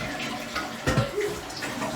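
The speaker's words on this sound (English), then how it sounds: "Courtesy flush." A toilet flushing in a bathroom, a brief close rush of gushing water with a gurgling swirl partway through.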